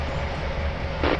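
A train rumbles along in a railway simulation game with a steady low rolling drone. A short brighter hiss-like burst comes near the end, and no one speaks.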